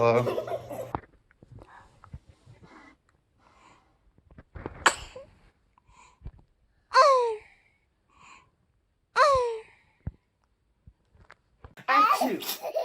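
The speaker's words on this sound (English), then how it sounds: "Achoo!" A baby sneezes several times in quick succession, short sharp bursts spaced a couple of seconds apart, close and fairly loud, with a child's soft babbling and adult voices between them.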